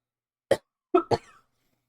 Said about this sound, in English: Coughing, not coffee.